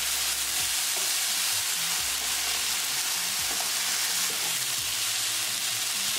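Taro root and peas sabzi cooking in a pan, a steady sizzle under repeated stirring strokes that scrape and thud at intervals, close and even throughout with no voices.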